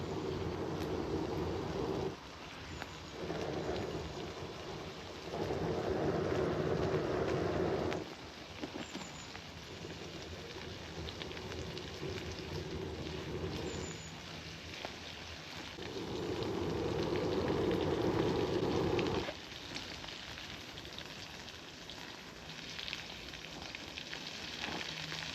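A wood fire under a heating wok, fanned by a blower, roars as a steady broadband rush that cuts in and out in several long bursts, with quieter gaps between. The sound is alone, with no talk.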